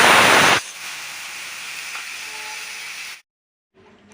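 Ash gourd pieces hit hot spice paste for a Bengali hilsa curry, starting with a loud burst of sizzling hiss that settles into a steady frying crackle, then a brief silence before the sizzle returns.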